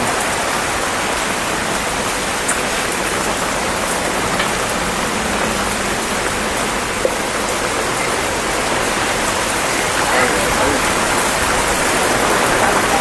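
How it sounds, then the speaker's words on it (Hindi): Heavy rain pours down in a loud, dense, continuous wash of noise, with faint voices underneath. "बहुत तगड़ी बारिश हो रही है।"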